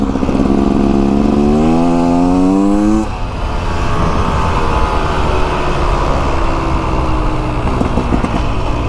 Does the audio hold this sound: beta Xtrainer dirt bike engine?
yes